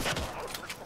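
A brief, dense burst of gunfire in the video game Fortnite, a rapid volley of shots lasting under a second at moderate loudness.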